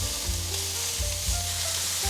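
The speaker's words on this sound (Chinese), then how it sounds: "现在放入高丽菜，快速翻炒" Continuous sizzling as cabbage is tossed fast in a hot pan with mushrooms, a dense, close frying hiss with periodic low thumps from stirring, no voices.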